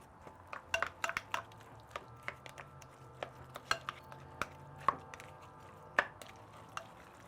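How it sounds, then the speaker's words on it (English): A mayonnaise-based burger sauce is stirred in a bowl with a utensil, giving a scatter of light clinks and scrapes against the bowl at an uneven pace, close and fairly quiet, with no talking. "So we'll give it a little stir up here."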